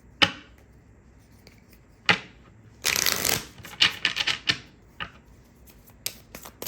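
Tarot cards are shuffled and drawn, heard close up as crisp riffling bursts and sharp card snaps spaced irregularly over a quiet background.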